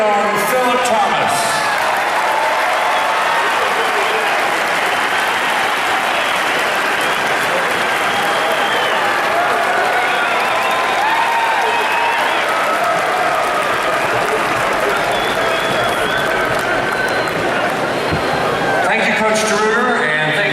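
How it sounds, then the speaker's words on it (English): A large audience applauds at a college football performance award ceremony, with steady, loud, sustained clapping and some crowd cheering that runs for about twenty seconds. "A huge round of applause"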